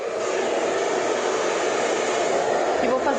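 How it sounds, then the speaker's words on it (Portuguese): A hair dryer blows steadily on its lowest speed while styling hair ends, a close, even whoosh of air with no breaks, running alone throughout. "regular o secador na velocidade mais baixa, principalmente na ponta"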